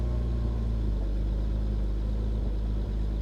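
A car engine idling at close range with a low, steady rumble, a slight stumble showing as a faint irregular dip in the drone.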